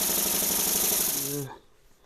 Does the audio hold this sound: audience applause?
no